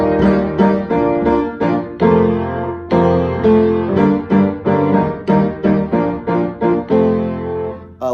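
Piano chords struck in a steady repeating rhythm with fifths played low in the left hand, each chord decaying before the next, played clearly with no talking.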